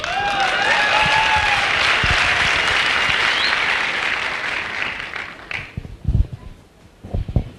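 Loud, dense applause from an audience at a Safe Shop business meeting, holding strong for several seconds before thinning out and breaking into scattered claps and knocks near the end.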